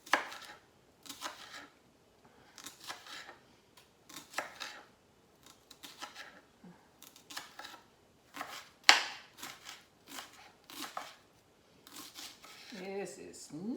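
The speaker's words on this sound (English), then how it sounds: "These fresh onions are different. They don't cut the same." A knife chops fresh onions on a cutting board in a home kitchen in a series of short, crisp taps that come in uneven bursts, with a person talking quietly between the cuts.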